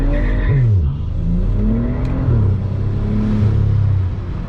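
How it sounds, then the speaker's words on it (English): A tuned 500 hp BMW 335i with anti-lag launching under launch control, its engine loud and close, revving hard with the pitch climbing through the gears and a rough rumble beneath; no talking. "Full brake, full gas."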